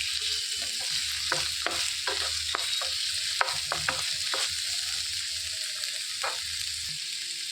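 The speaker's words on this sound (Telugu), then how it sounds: "మంట తగ్గించుకొని వేయించుకోవాలి" Onions and tamarind frying over a low flame: a soft, even sizzle under repeated sharp scrapes and taps of a spoon against the pan, close by and without speech.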